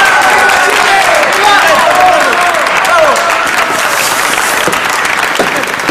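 A crowd applauds loudly and continuously in a historical drama about Bernardo O'Higgins and Chile's declaration of independence, with cheering voices and tonal sweeps mixed into the dense clapping.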